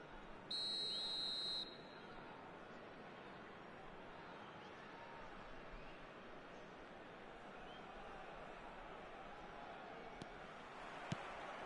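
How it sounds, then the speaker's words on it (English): A referee's whistle in a football video game, one long shrill blast near the start over a steady stadium crowd roar that keeps going afterward. "There's the whistle, and here we go."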